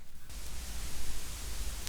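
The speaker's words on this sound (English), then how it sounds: "This is white noise that they suggest you use to adjust the balance so that it's the same on the left and right" Steady broadband hiss of white noise from a 1963 stereo test LP's channel balance track, played on a turntable, faint and continuous after a brief quieter start, with no voices.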